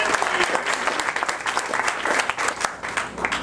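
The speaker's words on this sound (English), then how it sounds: "I want to give him a round of applause" A dense, lively round of applause from a crowd at a St. Patrick's Day gathering, steady clapping filling the room with a few cheers mixed in.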